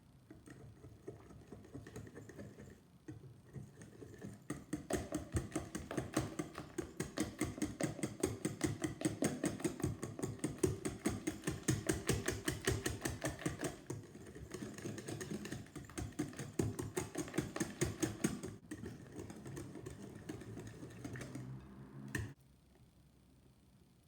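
A whisk beats mascarpone and cream cheese into cheesecake batter in a bowl, fast rhythmic clicking strokes that build in strength, keep going for most of the stretch, then stop abruptly near the end.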